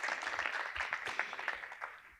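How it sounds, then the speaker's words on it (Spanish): Audience applause at an architecture networking event in Málaga, a dense patter of many hands clapping at moderate volume that gradually thins out and fades. "Un fuerte aplauso también para Enrique."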